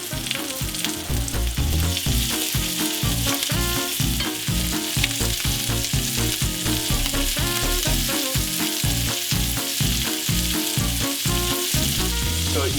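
King prawns sizzling in butter in a pan alongside cauliflower and mushrooms, a loud, dense and continuous crackling fry held steady and close throughout.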